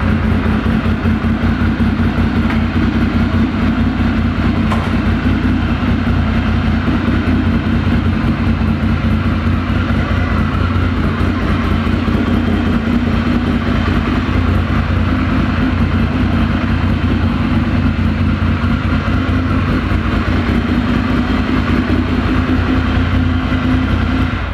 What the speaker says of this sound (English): turning the dashboard on, and start the engine